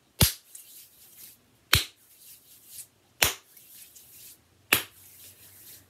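A teacher claps her hands four times in an even beat during a second-grade music lesson, each clap sharp and close, spaced about one and a half seconds apart over quiet background.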